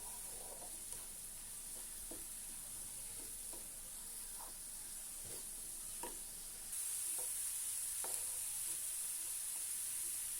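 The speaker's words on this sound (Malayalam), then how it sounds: "നന്നായിട്ടൊന്ന് ഇളക്കി കൊടുക്കാം." A pan of food being stirred after salt goes in, soft intermittent scrapes of a spoon over a faint steady sizzle, quiet and close, with no one speaking.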